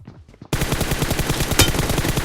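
Automatic gunfire in the battle royale game PUBG bursts in loud and close after a brief quieter patter, a rapid continuous string of shots with one sharper crack partway through.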